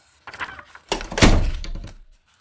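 A door being slowly closed indoors, with soft rustling movement followed by a heavier thud and a lingering low resonance, close and fairly loud, with no speech.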